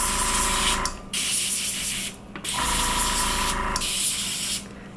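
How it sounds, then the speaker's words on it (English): Colored spray hisses onto chocolate bars in three loud, sustained bursts separated by short pauses, with no talking. "And now I'll just spray it around."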